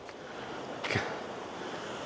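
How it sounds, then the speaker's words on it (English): Surf rolls in along the Godrevy coast in Cornwall, a steady broad wash of ocean waves heard from a distance, mixed with wind and one brief gust or thud partway through. "A lot of surfers down there as well. Some fantastic waves."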